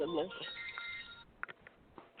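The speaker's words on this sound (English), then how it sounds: "your phone's ringing" A telephone rings during a lively panel gathering, its tonal ring heard under overlapping conversation for about a second before fading into the chatter.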